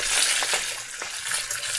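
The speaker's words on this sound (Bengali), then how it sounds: "এখানে দেখো মাছের মাথাটা ভাজা হচ্ছে" Fish head frying in hot oil with spices, a steady close hiss and sizzle with faint crackles throughout.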